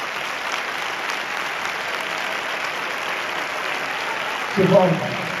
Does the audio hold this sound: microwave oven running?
no